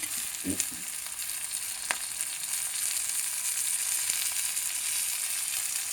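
Onions sizzle in hot oil with ginger garlic paste as the base for a ridge gourd egg curry. The frying hiss runs steady and close, with a few soft clicks and taps of a utensil near the start.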